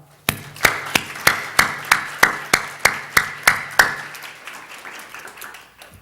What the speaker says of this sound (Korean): 우리 오늘 감사의 박수를 한번 드리겠습니다